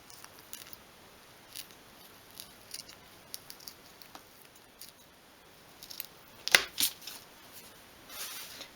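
Small scissors trim wadding around a card lid for a 1/12th scale miniature sewing box: faint, sparse snips and soft rustles in a quiet room, with a slightly louder cluster of cuts near the end.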